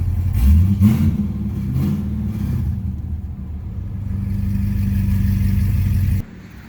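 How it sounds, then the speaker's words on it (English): A factory-supercharged 2009 Cadillac CTS-V V8 revs sharply, then settles into a loud, steady high-rpm drone with an audible supercharger whine, nearby and alone, before cutting off abruptly near the end. "since this car is factory supercharged, you also have that amazing blower sound too"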